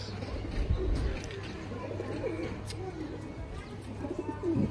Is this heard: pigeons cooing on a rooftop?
yes